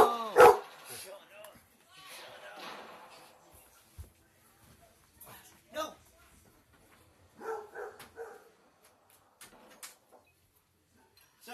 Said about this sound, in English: Sorry guys, my dog came in my room